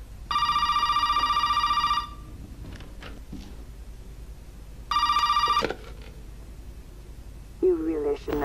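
Electronic telephone rings sound twice inside Resident Evil 7, a long ring and then a shorter one, with soft clicks between them and a brief voice near the end.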